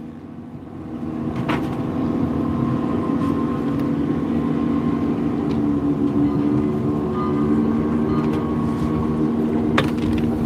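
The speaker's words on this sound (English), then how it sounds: "Sound like a fucking train" Steady low rumble of a passing train or rail vehicle heard from a distance in rural Papua New Guinea, a continuous drone with faint higher tones and a couple of sharp clicks, no talking.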